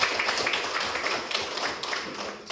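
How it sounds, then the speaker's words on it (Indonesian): A classroom of children claps together, a busy patter of many small hands at moderate volume, uneven and lively, lasting a couple of seconds with no speech over it. "Tepuk tangan dulu untuk kita semua."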